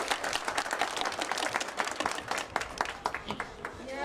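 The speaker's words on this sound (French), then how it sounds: "vamos a recibir también con fuerte aplauso" An audience gives a loud round of applause at a multilingual ceremony, dense clapping filling the whole moment with a few sharper individual claps standing out.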